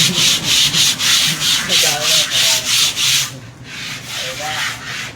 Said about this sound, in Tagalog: pader, dinilihan nyo